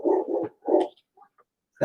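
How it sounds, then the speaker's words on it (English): Big indoor dogs barking at something outside, a few loud close barks in quick succession followed by faint yips and then another bark. "What you barking at?"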